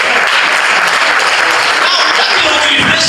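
An audience claps at a student association handover and inauguration ceremony at KIU, giving dense, sustained applause with a faint crowd murmur underneath.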